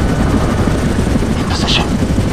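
Helicopter in the video game SOCOM 4 U.S. Navy SEALs, a steady, dense rotor drone running loud and close throughout, with bursts of gunfire-like crackle mixed in and brief radio-style voice chatter over it.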